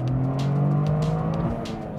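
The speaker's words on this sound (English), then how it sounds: "The engine note gives off a nice snort." A Toyota GR Corolla three-cylinder engine revs with a throaty, snorting note, loud and steady for about a second and a half before easing off, with no talk over it.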